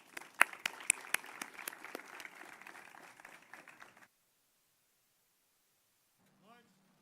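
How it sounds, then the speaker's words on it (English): An audience at a Moreno Valley Veterans Day ceremony claps for a JROTC drill team, scattered sharp claps for about four seconds, then silence with a brief faint sound near the end. "So let's give them another round of applause."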